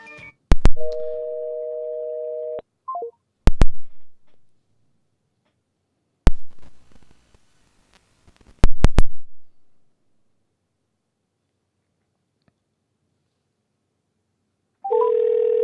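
A telephone line drops mid-call, leaving a loud steady dial tone broken by sharp clicks and short bursts, then silence, and the tone returns at the end.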